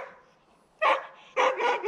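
A dog barks close by in two or three sharp, loud bursts separated by a short pause.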